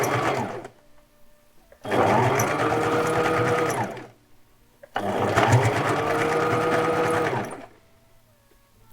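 A sewing machine runs along bias binding in two long, even bursts of rapid whirring stitches, each separated by quiet pauses.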